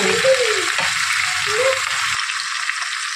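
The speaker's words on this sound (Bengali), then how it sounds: "এবারে আমি নুন হলুদটা মিশিয়ে দিচ্ছি" Salt and turmeric being stirred into chopped bottle gourd in a hot pan, with steady sizzling and a few soft spatula scrapes against the pan over continuous frying hiss.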